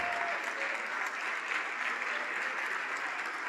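Sustained applause from a church congregation at a worship service, a thick, even wash of many hands clapping together without a break.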